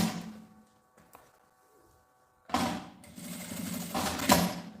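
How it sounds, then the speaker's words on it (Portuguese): A sewing machine backstitches over both ends of a seam on a double-opening pouch: a quiet pause, then a close, steady whirring run of stitching that fills the final half. "Venho aqui e dou um retrocesso nas 2 pontinhas, onde tinha costura"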